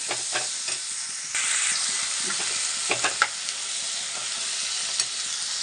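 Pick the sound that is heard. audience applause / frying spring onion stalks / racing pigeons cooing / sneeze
frying spring onion stalks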